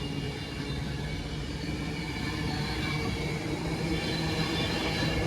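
An unrefurbished Pendolino running a London service passes on a diverted route in North Staffordshire, giving a steady, close, low rumble that holds without a break.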